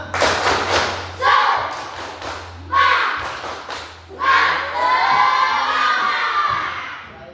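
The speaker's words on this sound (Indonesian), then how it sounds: "Tepuk semangat." A school class performs a rhythmic spirit clap chant, children clapping in patterned bursts with loud shouted chanting between them, ending in a long, lively group cheer.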